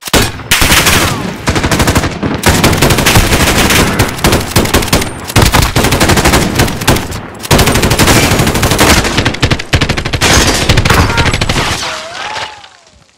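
Loud, sustained automatic gunfire in Call of Duty: Modern Warfare co-op play, with dense rapid bursts broken by a few short gaps and trailing off at the end.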